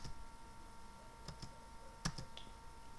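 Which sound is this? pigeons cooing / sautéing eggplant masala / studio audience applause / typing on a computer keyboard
typing on a computer keyboard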